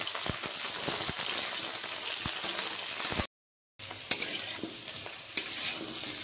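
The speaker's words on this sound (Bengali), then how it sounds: "এবার ভালো করে আরেকটু ভেজে নেব।" Brinjal, drumstick and bean vegetables sizzle and fry in a pan while being stirred, with crackling spatters and scraping stirs over a steady hiss, briefly cut to silence midway.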